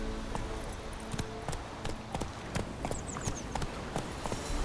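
Horse hooves clip-clop in a steady trotting rhythm in The Witcher 3: Wild Hunt, close and continuous over an ambient game background.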